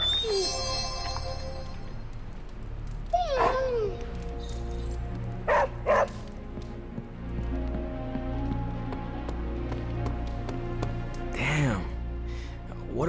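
Charlie, a puppy in the video game Marvel's Midnight Suns, gives a few yips and barks and a whimpering call over low game ambience, with voices in the scene.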